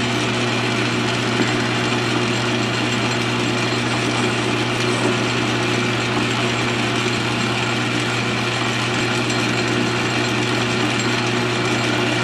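South Bend 13-inch metal lathe turning a screw down to 7/16 inch for a handwheel fit, a loud steady mechanical drone and hum with constant cutting noise, unbroken from start to finish.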